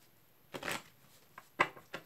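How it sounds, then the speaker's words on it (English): A deck of cards is shuffled in a few quick, quiet bursts of riffling and snapping, separated by short pauses. "Let's give these a shuffle."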